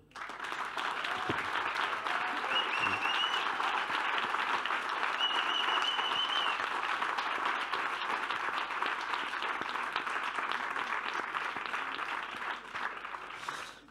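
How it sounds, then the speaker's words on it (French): Sustained applause from a large audience at a political event featuring a former Greek finance minister, dense and steady for about fourteen seconds, with a few whistles before it tapers at the end. "On peut l'applaudir"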